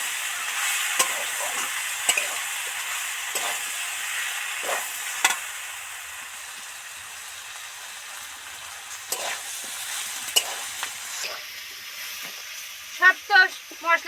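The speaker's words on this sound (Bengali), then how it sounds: "দুটো বাতাসা তেলের মধ্যে দিয়ে দিলাম এবার ভালো করে নেড়ে চেড়ে মিশিয়ে দেবো" Snake gourd and batasha sugar drops fry in hot oil as they are stirred, a soft steady sizzle with occasional light scrapes and taps, close and moderately quiet, a few sharper clicks near the end.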